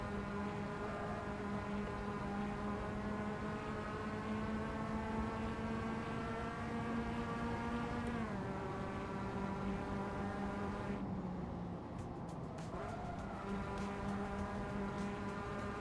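Mazda MX-5 engine held at full throttle on the Summit Point race track, a loud, steady droning note that dips briefly with a shift before climbing again, sustained throughout with no talk.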